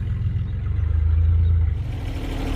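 Chevrolet S10 pickup engine running with no exhaust, a loud, close, rough throbbing rumble that swells briefly and settles, with no talking.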